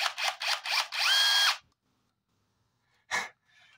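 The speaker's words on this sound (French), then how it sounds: "je retravaille les lèvres avec une espèce de brosse qui ponce avec la perceuse électrique" An electric drill fitted with a sanding brush grinds against the dry clay rim of an oya pot, in four short bursts followed by one sustained whine, then silence and a brief final buzz.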